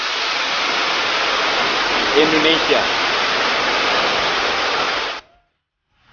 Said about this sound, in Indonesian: Di sebelah kanannya ada juga dua air terjun yang mengalir deras.